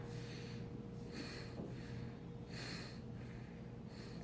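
Slow, rhythmic breaths drawn in and pushed out through the nose, about four airy cycles close to the microphone, over a faint steady hum.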